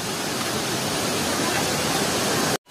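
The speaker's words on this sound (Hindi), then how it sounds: "ये है वाटरफॉल करमसुरी वाटरफॉल" Krang Suri waterfall in Meghalaya pours with a constant, dense rush of falling water, heard up close and filling the sound until it stops suddenly.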